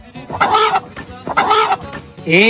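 A chicken clucks loudly and close by in repeated drawn-out calls, two long bursts followed by a rising squawk.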